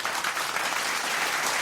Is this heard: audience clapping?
yes